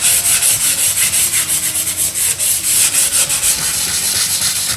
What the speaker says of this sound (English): Next phase is to sand this, which will make it flat, but also give it more of a textured look.